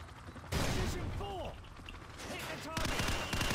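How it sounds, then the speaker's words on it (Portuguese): A flashbang grenade bursts in Call of Duty 4: Modern Warfare training, a sudden loud bang followed by a ringing whine and more sharp blasts, with gunfire-like cracks near the end. "Tá aqui uma flashbang."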